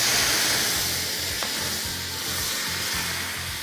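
Meat juices sizzling and hissing as water deglazes a hot Cristel stainless steel pan, a steady close broadband fizz with a faint low hum underneath, no voices.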